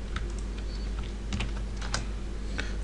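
Keys tapped on a computer keyboard to enter an Alt-click and Ctrl+V shortcut, a few light, quiet clicks spread irregularly with no talking.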